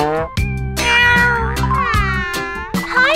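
A cat meows loudly and close by, giving a string of several drawn-out, wailing meows with short breaks between them and no talk over them.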